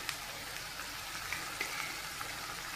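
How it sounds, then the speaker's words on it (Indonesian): Salted mujair fish stir-fried with jengkol in oyster sauce, giving a steady, close sizzle with light crackles and faint stirring ticks throughout and no talking. "Ieu oseng tumis ikan asin bujair."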